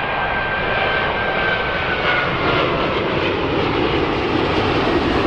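A loud, steady engine drone from a white toy airplane hums continuously with no pauses and no voices.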